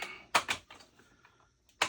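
Plastic parts of a Lewin Resources Atlas figure, an Optimus Prime-style transforming toy, snapping into place as a handful of sharp, close clicks in an irregular rhythm, quiet and with no talking.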